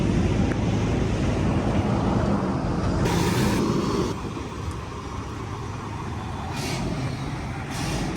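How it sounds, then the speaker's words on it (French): A strong storm wind blows in Miami, roaring and buffeting the microphone with heavy, continuous noise that swells and eases in gusts, loud and close throughout. "On est en pleine tempête à Miami, alors là je pense que vous m'entendrez pas beaucoup. Il y a un vent de malade"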